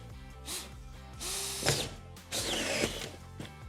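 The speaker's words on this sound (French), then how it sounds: "Ok, la visseuse, elle est là, elle est prête." A cordless power screwdriver driving screws into panels: several short whirring bursts that rise and fall, each ending with a brief ratcheting grind, recorded up close.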